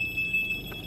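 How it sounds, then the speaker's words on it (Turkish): A front parking sensor fitted to a Subaru Outback gives a rapid series of short, faint, high electronic beeps in quick succession. "Direkt öter ve 40 santimde sizi durdurur."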